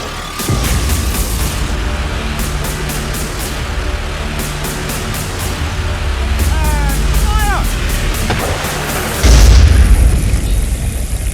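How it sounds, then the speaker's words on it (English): A carriage-less cannon fires during a siege in the NZ Wars at Waerenga-a-Hika, a deep boom landing late amid a steady rumbling battle ambience with repeated bursts and whistling streaks. "The gun has no carriage, so each time it's fired, it topples over"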